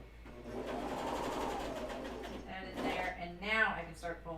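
A serger sewing machine stitches underwear fabric in a steady whirring run for most of the span, with a person talking over it near the end.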